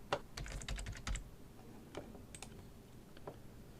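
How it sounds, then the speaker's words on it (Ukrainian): Fingers type on a computer keyboard, entering the first letters of a student's surname into school software: a quick run of crisp keystrokes, then a few scattered, quieter clicks, close and alone. "Натискаємо і набираємо перші три символи прізвища учня."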